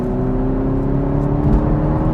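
A 2021 Toyota GR Supra with a 2.0-litre four-cylinder engine accelerates to motorway speed, heard from inside as a steady droning engine note with tyre and road roar that swells slightly midway.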